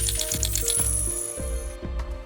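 Coins dropping and clinking in a quick, rhythmic series, bright metallic jingles repeating loudly with a ringing tone over roughly two seconds.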